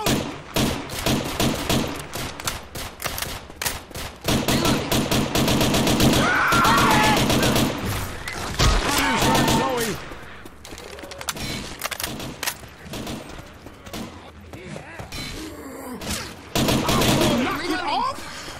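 Sustained bursts of rapid automatic gunfire fill a Left 4 Dead 2 firefight, loud and dense with rattling volleys, short gaps and thuds, while voices talk intermittently underneath.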